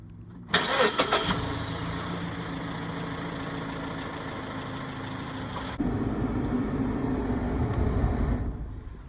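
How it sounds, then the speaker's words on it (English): A 2016 Mazda 3 with 152,000 miles fresh from an oil change cranks briefly, catches, and settles into a steady, close idle that shifts slightly in tone partway through. "I want to go ahead and just start the car up and just double check for leaks."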